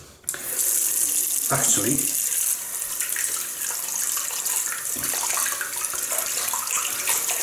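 A Wilkinson Sword special edition boar shaving brush is rinsed under a running tap, a steady close hiss of flowing water with splashy changes as the brush moves, and someone briefly speaks over it.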